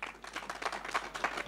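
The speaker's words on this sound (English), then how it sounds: "I think he truly deserves a round of applause." Listeners at a Kwita Izina gorilla naming ceremony in Karongi applaud, a soft, steady patter of distant clapping lasting a moment.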